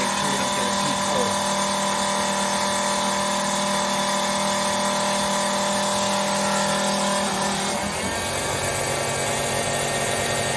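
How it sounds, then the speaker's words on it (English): An electric pump runs continuously with a loud, steady mechanical whine and hum as it pushes antifreeze water into a Volvo diesel engine on a Carver yacht, its tone shifting slightly near the end, with no clear speech. "I'm really pleased with the flow as this pump pumps this water in."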